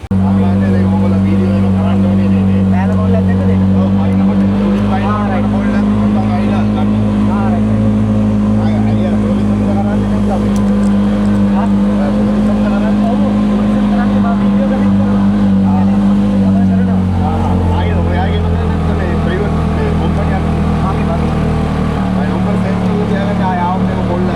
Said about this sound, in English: it's a road so steep cars can't make it up, gotta take a tuk-tuk